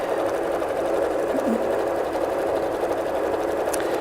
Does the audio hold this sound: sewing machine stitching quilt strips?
yes